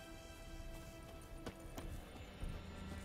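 Horses trot in The Witcher 3, hooves clip-clopping in a steady rhythm at a modest distance under a continuous game ambience.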